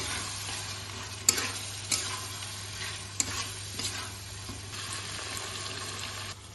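Chicken pieces sauté in a pan with yogurt and Kashmiri chilli powder, a soft steady sizzle punctuated by several sharp scrapes and knocks of the spoon being stirred, with no voices.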